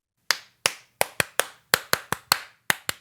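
Hands clapping in a sparse, uneven series of about a dozen sharp claps spread over a few seconds, close and dry with silence between.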